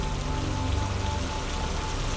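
Heavy rain pours down steadily in a dense, continuous hiss of drops on surfaces, even and loud throughout with no voices.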